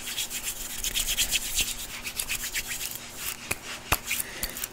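Close, fast rubbing and scratching of hands on the hips and lower back during an aggressive ASMR massage, a dense continuous brushing texture punctuated by a few sharper scrapes, with no talking.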